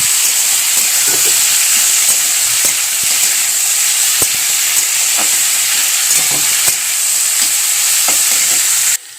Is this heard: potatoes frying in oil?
yes